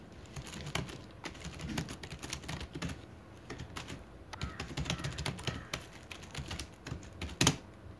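Typing on a computer keyboard while entering a user ID at a sign-in page: quiet, close, irregular key clicks in quick bursts, with one sharper keystroke near the end and no talking.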